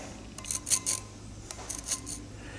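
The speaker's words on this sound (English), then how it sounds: "as I swing that arc, I'm going to make a scratch on the surface." Scribe point scratching an arc across the face of a homemade anvil for a tire hammer, a quiet series of short, light scraping strokes in near silence.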